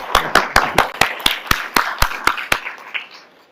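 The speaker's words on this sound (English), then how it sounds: "that second round of applause for the graduates was pretty great" Graduation ceremony audience clapping in a series of sharp, separate claps at a steady rhythm, fading out toward the end.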